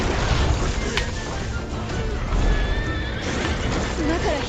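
A horse whinnies and hooves clip-clop during a mounted boss fight in a Final Fantasy game, heard among dense game effects and music, with a person talking over the action.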